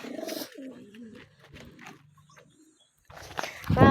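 Pigeons coo softly at a loft, a few low, throaty rolling calls close by, followed by a brief rustle of movement.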